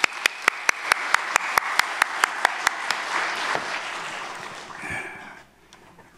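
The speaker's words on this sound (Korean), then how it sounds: "나오실 때 환영의 의미로 우리 큰 박수로 맞이하겠습니다" A congregation claps in welcome as a retired pastor from Suwon Seong Church steps up to preach at a Korean church service: a few sharp, evenly spaced claps open into dense, sustained applause filling the sanctuary, which fades out near the end.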